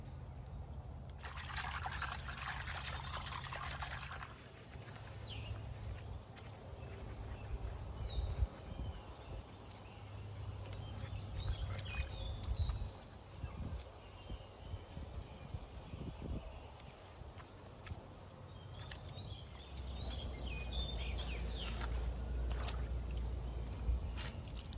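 Squash leaves and blossoms pressed into a container of water make soft, steady trickling and sloshing, close and low, with brief splashes and handling sounds throughout.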